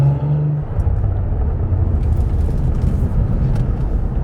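Cadillac CT4-V Blackwing driven through a corner on a drizzly road, heard from inside as a steady, loud low engine and road rumble with a brief deeper surge near the start.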